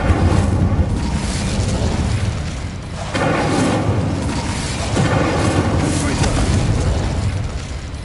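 Spell effects from Hogwarts Legacy, including a cast Incendio fire spell, come as loud whooshing, booming bursts of magic over a constant noisy game soundscape, with sharp new blasts starting near three and five seconds and a voice speaking at moments.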